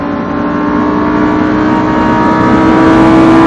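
Lamborghini engine accelerating hard on a race track, a loud close continuous roar with a steady tone rising slowly in pitch, no clear shift breaks within.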